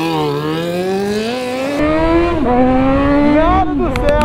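Yamaha XJ6 motorcycle engine revving up, a rising whine that swells, dips briefly and climbs again, loud and close, with a few short sharp clicks near the end.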